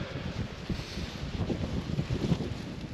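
Wind blows under a tent at a winter wild camp, giving a steady buffeting roar with low gusty rumbles that swell and fade, close to the microphone and with no talk.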